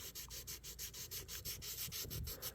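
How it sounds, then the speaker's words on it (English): Steady back-and-forth hand sanding on an old orange-handled knife's metal blade, a light, even scratching rhythm repeating about five strokes per second, close and alone with no talk. "we're slowly getting rid of that, or getting that sanded down and getting it sanded down evenly"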